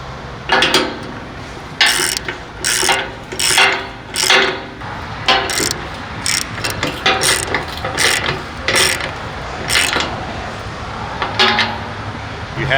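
Bolts are tightened on a conservator being installed at a 5 MVA substation: a series of close metallic ratcheting clicks and clinks in uneven bursts, with quiet gaps between.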